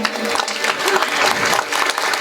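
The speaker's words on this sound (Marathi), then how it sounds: "हा मग जोरात टाळी होऊ द्यायची हा" An audience at a temple gathering claps loudly, a dense steady wash of applause close by, with faint voices mixed in.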